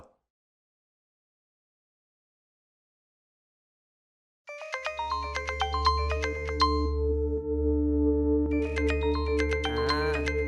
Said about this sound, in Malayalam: ആ മൊബൈലൊന്ന് റിങ് ചെയ്തടാ